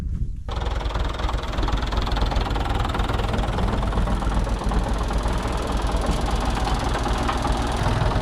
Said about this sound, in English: I love riding in a tractor.